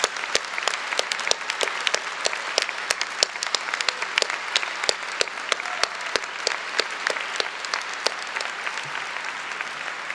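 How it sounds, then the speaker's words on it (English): A crowd at a 2012 law school commencement gives a sustained round of applause, dense clapping with sharp individual claps standing out, steady for the whole stretch with no talk. "let's give them a rousing round of applause"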